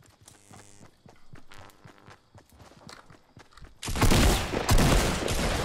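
Gunfire in the Fortnite video game: quick bursts of shots and game effects, then a loud, dense spray of shooting that continues to the end, close and with no talking.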